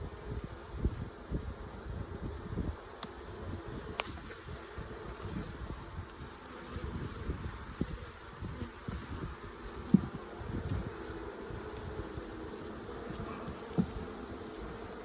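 Honeybees from a weakening late-fall hive that is dying out buzz in a steady, dense drone, close and continuous, with no talking.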